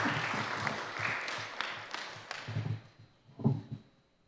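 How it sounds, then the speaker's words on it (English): Audience applause at a certificate presentation, a scattered round of clapping from a modest crowd that thins out and fades over a few seconds. "Please give him a round of applause."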